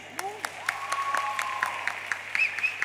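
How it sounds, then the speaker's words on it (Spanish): Audience at an outdoor Summer Fest in Cerdanyola giving scattered applause, sparse sharp claps spread across the moment, with whistles and voices rising over them. "Aplauso para Abril"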